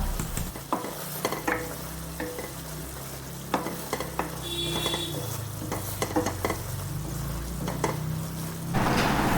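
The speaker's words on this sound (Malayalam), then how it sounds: "അവിലും പഴമൊക്കെ കൂടി നമുക്കൊന്ന് നന്നായിട്ടൊന്ന് മിക്സ് ചെയ്ത് കൊടുക്കാം" Banana and flattened rice (aval) are stirred together in a hot pan for pazham nurukku, with repeated spoon scrapes and knocks against the metal over a soft, steady sizzle.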